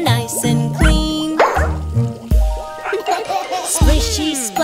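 Cartoon dog barks ring out repeatedly and loudly in a children's nursery song about bath time, bouncing with sung music and playful jingles and boings.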